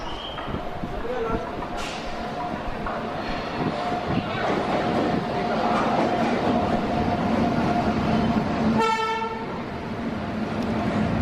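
An Indian express train hauled by a WAP7 electric locomotive rolls into platform 1 at Bangalore Cantonment station with a steady rumble, one horn blast near the end, and voices chatting over it.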